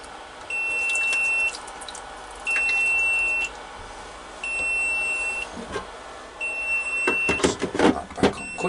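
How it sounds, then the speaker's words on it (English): A quail egg incubator's temperature alarm beeps in repeated long electronic tones, several evenly spaced bursts, followed by clicks and handling noises as it is dealt with. "That's the temperature alarm."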